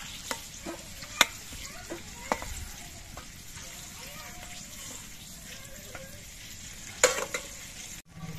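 Fried eggs are stirred and lifted out of hot oil in a pan, giving a soft, steady sizzle with a few sharp scraping clicks near the start and the end.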